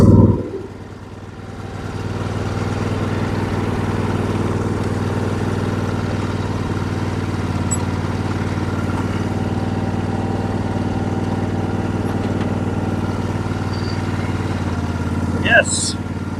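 A Briggs engine on an MTD 21 hp lawn tractor with a 46-inch deck runs at a steady idle on choke for a long stretch, a constant mid-pitched drone, with a brief clatter near the end.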